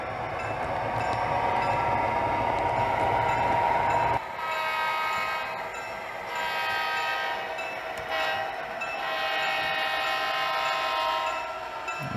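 An Amtrak model train runs on a model railroad, its sampled horn sounding in several long blasts over a steady rolling rumble, fairly close and with no talking.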